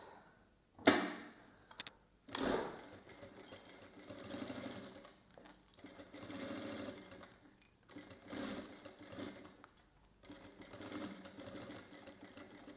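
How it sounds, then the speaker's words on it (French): A sewing machine stitches a seam along the zipper of a fabric coin purse in short, quiet runs of rapid whirring broken by pauses and a few sharp clicks. "j'hésite pas à reprendre pour avoir une couture bien droite"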